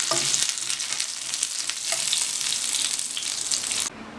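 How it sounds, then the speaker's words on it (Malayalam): Curry leaves and dried chillies hitting hot coconut oil after mustard seeds have popped, a loud, close, crackling sizzle that runs steadily and then drops off abruptly near the end. "ഇനി ഇതിലേക്ക് കറിവേപ്പിലയും വറ്റലും കൂടി കൊടുക്കാം."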